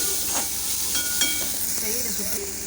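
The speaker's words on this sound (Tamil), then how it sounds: "வெங்காயத்தை வந்து ஒரு ஒரு நிமிஷத்துக்கு நல்லா வதக்கிக்கலாம்" Onions are sautéed in a hot pan, with a continuous loud hiss and sizzle and occasional soft stirring scrapes close by.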